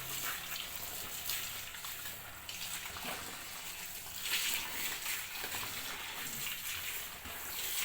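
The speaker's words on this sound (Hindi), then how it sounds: "ये मैं साग धोने लगी हूँ।" Mustard greens (saag) being washed in a kitchen, with water running and splashing steadily and loudly, the sloshing swelling at moments as leaves are rinsed.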